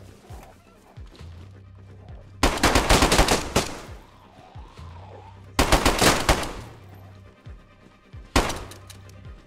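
Gunfire in the video game DayZ: three loud bursts of rapid automatic fire break out in separate clusters, with quieter game ambience in between.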